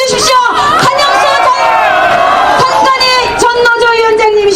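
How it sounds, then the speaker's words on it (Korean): A large crowd at an outdoor candlelight rally shouts and cheers in a sustained roar, loud and close, with a voice over a loudspeaker rising above the din. "함성 한번 질러주십시오"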